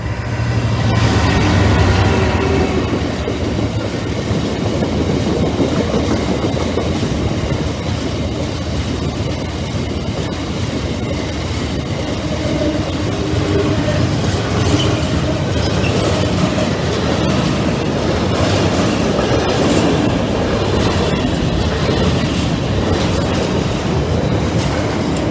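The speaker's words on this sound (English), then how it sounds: "Delayed freight train." A delayed freight train hauled by locomotive 6726 rolls past loudly and close, a continuous rumble with rhythmic clickety-clack from the wagons and occasional wheel squeal throughout.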